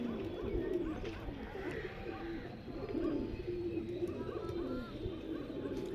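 Soft, low cooing of a Sialkoti pigeon repeats beneath murmuring voices, with faint chirps and background rustle throughout.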